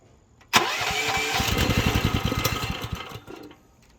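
An excavator engine cranks and catches with a sharp burst, then chugs in a fast rhythmic putter whose pace shifts as the throttle is adjusted before it fades down near the end.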